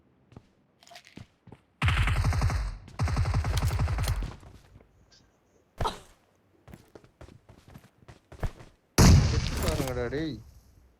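A grenade blast and bursts of gunfire in a multiplayer video game near a main building, loud dense volleys and a heavy boom near the end, with players talking over the action.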